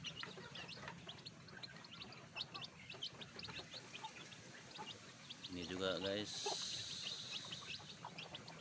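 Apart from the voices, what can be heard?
Bangkok chickens clucking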